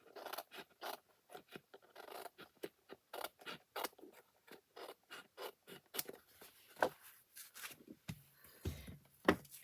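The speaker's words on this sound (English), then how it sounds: "just trim that edge" Scissors snip along the edge of a paper card piece for a greeting card craft, a run of quiet, close, rhythmic cuts with a few sharper snips near the end, no talking.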